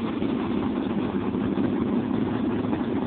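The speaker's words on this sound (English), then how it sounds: "Just want to get a little video of motor running, show all you guys." Steady, close idle of a 1970 Sidewinder boat's motor running out of the water, a continuous low rumble that holds an even level throughout with no voices over it.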